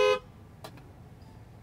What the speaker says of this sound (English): I could make it honk.